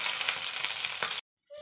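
Garlic cloves and tempering seeds sizzle in hot oil, a steady close hiss with faint crackles that stops abruptly, then brief quiet before a little sound returns.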